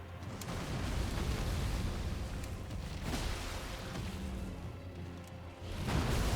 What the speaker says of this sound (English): Ooh, big explosion.